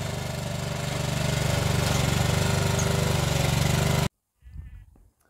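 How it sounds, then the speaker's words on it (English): A lawn mower mowing a lawn on a goat farm, its engine a loud steady drone for about four seconds that cuts off abruptly, followed by a brief quieter sound. "is mowing some lawn"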